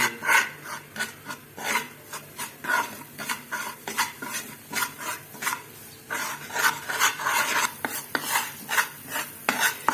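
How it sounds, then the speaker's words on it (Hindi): Water chestnut flour being stirred as it roasts in a pan, giving a steady run of close, rhythmic scraping and rubbing strokes that carry on without pause and with no talking over them. "जिस तरह आप सूजी को ब्राउन करते हैं इस तरह इसको आप हिलाते जाएं।"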